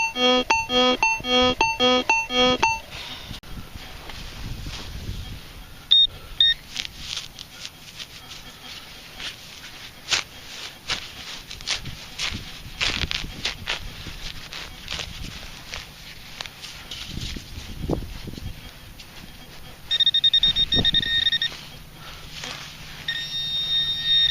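An Aka Signum 7272M metal detector sweeps over the ground in a local park and gives short repeated electronic beeps at the start, with fainter tones later, over scuffing and digging noise.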